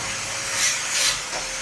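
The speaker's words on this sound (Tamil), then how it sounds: "அந்த ட்ரெயினை வந்து நம்ம கட் பண்ணி தான் எடுக்கணும்னு சொல்லியிருந்தோம் இல்லையா ஸோ அதுதான் இப்போ கட்டிங் ப்ராசஸ் வந்து போயிட்டுருக்கு" A cutting tool grinds through the drive chain of a Royal Enfield Himalayan 450, a loud, steady hissing whine with slight swells in intensity, heard up close without speech.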